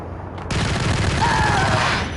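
Sustained, loud gunfire rattles through a slaughterhouse level of the video game Max Payne, a rapid fusillade of shots that blur into a continuous roar and then tail off.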